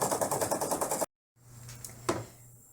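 An embroidery machine stitches a felt shingle design in the hoop, a fast, even mechanical chatter of needle strokes that stops abruptly, followed after a short silence by a low motor hum and a click.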